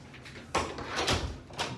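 A door inside a police department building opens with a sudden rattling push and a sliding, rumbling sweep, followed by further thuds and shuffling close by, with no talking over it.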